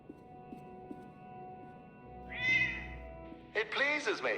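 A cat in the game Lightmatter meows twice, a short mew followed by a louder, drawn-out meow, over a quiet synth music bed.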